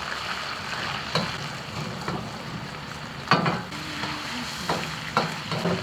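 Pork belly frying in hot oil in a wok gives a steady soft sizzle, with occasional scraping stirs and light clanks close by.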